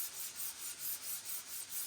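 Hand sanding the steel body of a 1951 Vendo 39 Coke machine in cross strokes, a steady rhythmic rasping scrub repeating about every quarter second, close up and fairly quiet with no talking.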